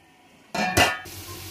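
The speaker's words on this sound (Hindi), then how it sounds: "और अब हम इसको ढकने लगे।" A metal lid clanks down onto a pot of beef khichda with a short ringing clatter, close by, then the sound settles into a faint hiss.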